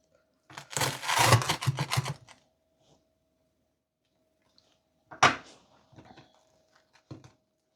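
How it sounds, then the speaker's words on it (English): A knife cuts into cheese and potato toasts, a dense burst of crunchy crackling at first, then after a pause a sharp crisp crunch and a few softer scrapes and taps, close and without talk. "So let's just cut into them."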